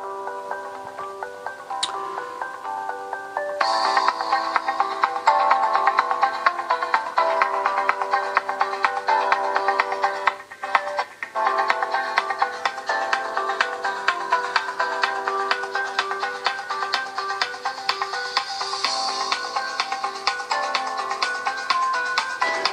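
Electronic music plays through the small built-in speakers of a Nubia Z17 mini smartphone, sounding bright and thin with a steady beat and repeating synth tones. It runs continuously with a brief dip partway through, and no one speaks.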